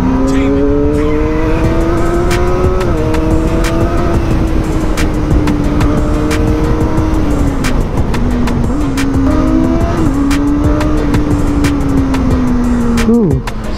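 A Kawasaki ZX25R motorcycle's high-pitched engine revs and holds steady under way, loud and close, with gear-change dips in pitch, constant wind rush and a rider's voice talking over it.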